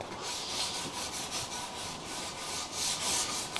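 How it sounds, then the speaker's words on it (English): Fine sandpaper rubbed over coated wood on a workshop doorframe, a soft, steady scratchy hiss in repeated back-and-forth strokes, close and alone. "kind of just run over it with some fine sandpaper"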